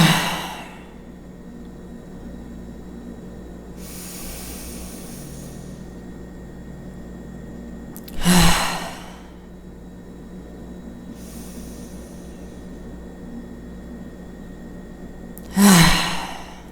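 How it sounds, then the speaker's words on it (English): Three deep, full breaths spaced several seconds apart during a calm meditation, each a soft drawn-out inhale and exhale with a louder sighing peak, heard alone against a quiet hiss. "So go ahead and take 3 deep, full breaths."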